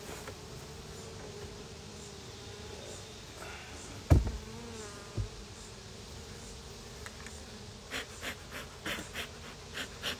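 Bees buzz around an opened beehive at an apiary, a steady close drone of many insects, with a few sharp knocks and thuds of hive handling scattered through it.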